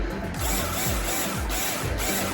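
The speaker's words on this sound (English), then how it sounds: "Phillips head cordless screwdriver and proceed to tighten" Phillips head cordless screwdriver tightening a fitting on a Murano glass garden flower, a close mechanical whir with repeated ratcheting pulses at a steady rhythm of roughly two per second, no talk.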